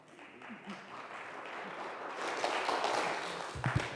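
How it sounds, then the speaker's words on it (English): A church congregation applauds Maureen and the Finance Committee during Sunday worship, a soft, steady patter of many hands building slightly and continuing throughout, with faint voices underneath. "can we give Maureen and Finance Committee another round of applause for all the hard work they do?"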